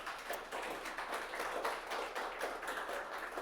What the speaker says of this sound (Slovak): Dajte si uvítací potlesk.